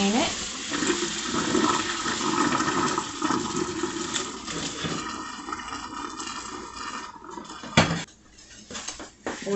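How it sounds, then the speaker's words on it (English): Boiled lamb's quarter greens drained from a pot, with water pouring and splashing steadily, then a clatter of the pot near the end as a voice talks. "Okay, I boiled about 5 minutes and drain it."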